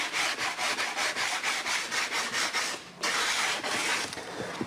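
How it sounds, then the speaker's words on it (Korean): Sandpaper rubbed by hand along the cut edges of wood, steady rhythmic back-and-forth strokes close up, a brief pause, then more scraping passes. "사포질 하실 때 나무가 잘린 단면은 특히 신경을 쓰셔서 사포질 하셔야 됩니다"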